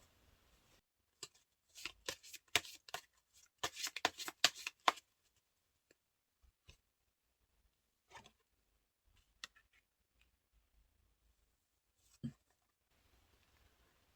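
Tarot cards are shuffled and drawn, a cluster of crisp flicking and riffling snaps close by, followed by sparse single taps and slides as cards are laid down in a quiet room.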